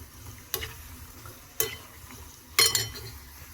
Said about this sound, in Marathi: भेंडी आहे त्यामुळे व्यवस्थित तळली गेली पाहिजे भजी।